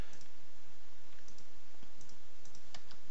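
Mouse clicks come sparse and irregular during work in AutoCAD modelling software, a handful of faint taps over steady background hiss.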